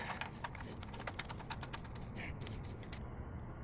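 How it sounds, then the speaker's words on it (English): A small sediment cap is screwed into a Honda GX390 engine by hand, giving faint, close scraping and ticking clicks with a light creak in a quiet room. "And then we screw in the little"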